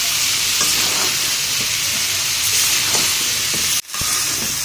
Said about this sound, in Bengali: তরকারিগুলো মশলার সাথে একটু কষিয়ে নিই